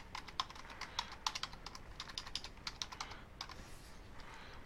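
Rapid keystrokes on a computer keyboard as a chart title is typed, a quick irregular run of crisp clicks close to the microphone over faint background hiss.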